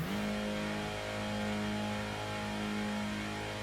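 Car engine racing around the Deep Forest circuit in Gran Turismo on the PlayStation, a loud steady mid-pitched drone held at high revs for the whole stretch, smooth and continuous with no gear changes.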